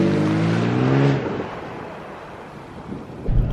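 A car floored from a standstill after shifting into drive, the engine revving up briefly then settling into a low rumble mixed with wind buffeting, with a thump near the end and no talking.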